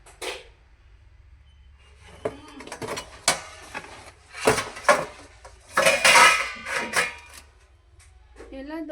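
Plates and steel dishes clatter in a home kitchen while biryani is served, with bursts of clinking and scraping close by and people talking around them.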